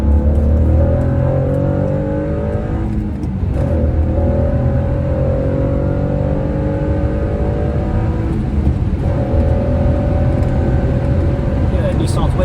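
Acura CL Type S with a six-speed manual revving hard on a race track, a steady loud engine drone climbing in pitch through the rev range, with brief dips at gear changes.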